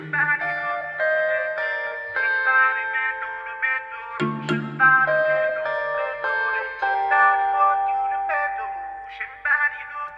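Layered jazz guitar from Contact and marimba from Logic playing together in an Afrobeat-style beat, bright plucked and mallet tones in a busy melodic pattern, close and clear without talk.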